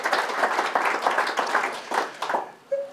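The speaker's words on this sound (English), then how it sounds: "a quick round of applause for SIKH for what she's done so far" Applause from an audience at a British Transport Police Sikh Association Vaisakhi event, distinct claps in a lively patter that thins out and stops near the end, with a brief tone after.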